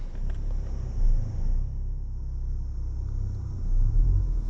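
A car engine labours in low gear under load as it pulls away, a steady low rumble with a couple of brief surges in effort, close and continuous with no talk over it.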